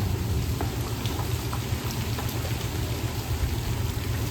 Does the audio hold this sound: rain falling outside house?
yes